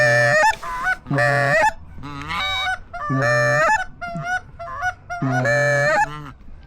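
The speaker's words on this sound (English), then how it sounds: "Them geese are gonna come back." Geese over a flooded grass field honk in repeated loud, close bursts, several calls overlapping in an uneven rhythm with brief gaps between.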